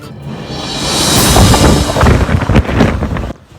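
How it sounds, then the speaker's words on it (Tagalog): Strong wind from a suspected tornado in Liloan roars and buffets the microphone, rising and gusting with rumbling low thumps throughout, no voices. "Ingon ani ka kusog ang hangin gabi uros sa lungsod sa Liloan"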